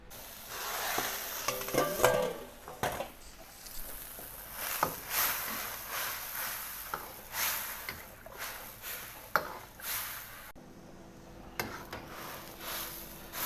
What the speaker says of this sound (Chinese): 切好的腰花，我得炒啊，不是那种正经的炒法啊，就给它炒成那个孜然口的